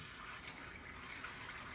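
Tap water runs into a kitchen sink while green beans are washed for canning, a steady, close rushing stream with slight splashing variation and no talk.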